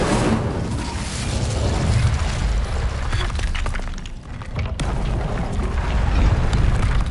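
Incendio fire spell in Hogwarts Legacy: a loud, dense roaring burst of flame with crackling and booming impacts that stays steady for several seconds, briefly dipping before surging again.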